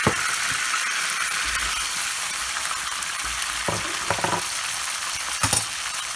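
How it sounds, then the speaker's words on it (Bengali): A cup of onions dropped into hot oil, the same oil just used for frying fish, sizzles in a loud, steady hiss with a few sharp crackles and stirring scrapes; no one speaks. "এখন এই গরম তেলের মধ্যে আমি 1 কাপ পেঁয়াজ দিয়ে দিব।"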